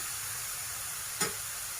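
Eggplant fries in oil with a steady, soft, constant hiss of sizzling, broken by one brief sharp crackle.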